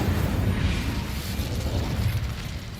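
An Incendio fire spell blast in Hogwarts Legacy, heard as a dense, loud, rumbling burst of fiery noise that roars steadily for a few seconds with no voices over it.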